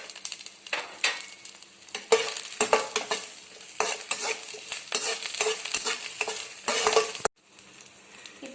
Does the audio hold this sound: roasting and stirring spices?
yes